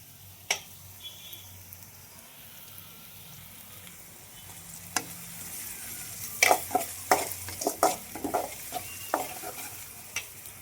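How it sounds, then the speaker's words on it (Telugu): Onions fry in a pan for chicken sherwa with a soft, steady sizzle, then a run of clattering stirring scrapes and taps toward the end, close by and with no voices. "ఆనియన్స్ అయితే చాలా బాగా వేగిపోయినాయి ఫ్రెండ్స్, రెడ్గా."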